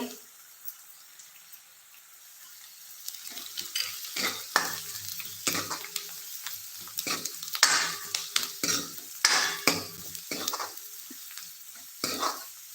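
A ginger, coconut and garlic paste fries in a tempering over medium heat, with a soft sizzle under frequent close scraping and stirring strokes of a spoon against the pan.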